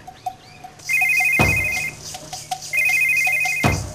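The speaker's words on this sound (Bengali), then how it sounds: "আবার রিং হইতাছে।" A mobile phone ringtone rings loudly and close by in two repeated electronic bursts, with faint soft beeps between them.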